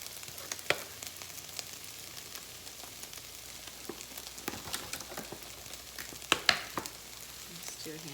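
Mixed vegetables sizzling in a hot pan for scrambled tofu, a steady close crackle with scattered sharper pops and spits throughout.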